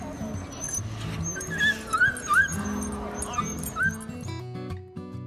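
A puppy whimpers and yips excitedly in high, wavering cries on reuniting with its family, with a few short barks and some background voices and rustling.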